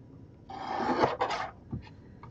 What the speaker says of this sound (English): I'm just trying to trim these up to get them even.